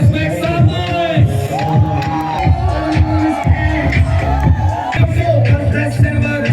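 A crowd at a pageant cheers, whoops and makes noise, loud and continuous, with a babble of voices throughout.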